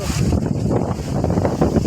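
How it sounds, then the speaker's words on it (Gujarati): Strong storm wind buffets the microphone in a constant low roar, gusting unevenly and loud throughout, in Dhandhuka. "પવન તો કેટલો બધો છે"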